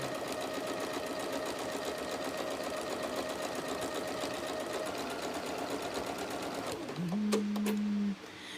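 A sewing machine runs in a long continuous whir while stitching a trapunto cushion, close and steady, then changes pitch and stops abruptly near the end.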